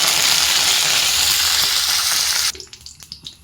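Mustard seeds and curry leaves hit hot oil in a cheenachatti pan, a loud, dense sizzle that cuts off abruptly, leaving faint crackles and pops.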